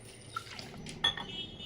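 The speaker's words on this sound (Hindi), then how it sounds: "बस इसमें पानी मिक्स करना है।" Water stirred into crushed ground ingredients in a metal pot for a Kumaoni village dish, heard as soft wet sloshing with a couple of brief clinks against the vessel, close and quiet.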